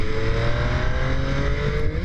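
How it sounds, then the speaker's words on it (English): An MV Agusta Brutale 800 triple-cylinder naked bike revving in normal mode, a loud close engine roar holding a high sustained pitch for the whole two seconds. "Just listen to this clip of this bike as I give it some gas."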